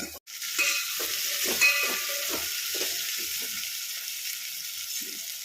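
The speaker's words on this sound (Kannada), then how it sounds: "ಎಲ್ಲ ಹಾಕ್ಕೊಂಡು ಫ್ರೈ ಮಾಡ್ಕೊಳ್ಳೋಣ. ಎಣ್ಣೆಲ್ಲೇ ಫ್ರೈ ಮಾಡ್ಕೊಳ್ಬೇಕಿದು ಚೆನ್ನಾಗಿ." Stuffed brinjal filled with masala and turmeric frying in oil in a pan, a steady close sizzle with intermittent stirring scrapes throughout, no talking.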